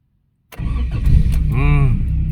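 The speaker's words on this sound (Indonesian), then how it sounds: "Injak rem, langsung kita starter ya." A 1990 Honda Civic with an automatic gearbox starts after a short silence: one quick crank, then the engine catches and settles into a steady, close idle.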